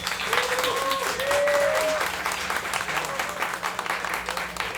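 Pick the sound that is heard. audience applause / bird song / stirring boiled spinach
audience applause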